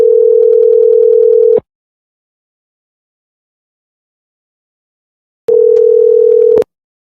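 A telephone tone sounds while a number is being dialed, a loud steady buzzing hum that plays for about a second and a half, falls silent for several seconds, then returns for one more burst.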